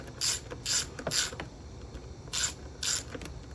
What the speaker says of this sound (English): Remove the two nuts on here that's holding the air cleaner to the back.